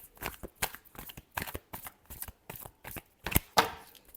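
Tarot cards shuffled in quick bursts, a dozen or so crisp riffling rustles spaced through the clip, close and fairly loud, ending with a sharper snap near the end; no voices.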